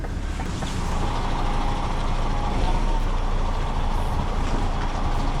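A Scania truck drives and reverses, its engine producing a steady, loud, continuous rumble throughout with no pauses.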